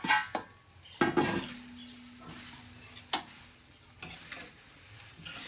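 Nylon poha being tossed and stirred in a pan with turmeric for chevdo: a soft sizzle under sharp spatula knocks and scrapes that come in irregular bursts.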